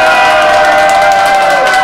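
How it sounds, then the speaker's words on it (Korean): A crowd at a welfare performance by a visiting art troupe cheers and claps loudly and continuously, a thick, sustained wash of hands and voices. "이 예술단에게 큰 환성과 박수를 한번 주시기 바랍니다"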